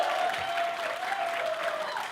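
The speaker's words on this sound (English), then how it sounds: "So can we do a huge round of applause?" Soft, steady round of applause from a conference audience for panelists, a continuous wash of many hands clapping at moderate distance with a faint sustained tone underneath.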